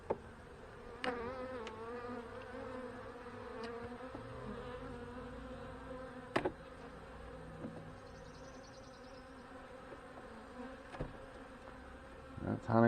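Honey bees hum steadily in the opened top box of a hive, a continuous close buzz with occasional louder passes near the microphone, plus a few faint clicks and knocks.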